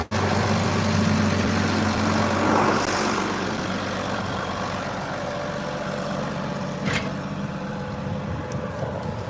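Tractor engine running steadily while pulling three shanks 12 to 16 inches deep through soil, a continuous low rumble with a slight rise near the start and a brief clatter later, no talking.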